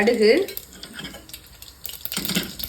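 Mustard seeds temper in a little hot oil in a kadai, crackling and spattering in bursts close by, with a clatter of utensil at the start and a louder flurry of popping near the end.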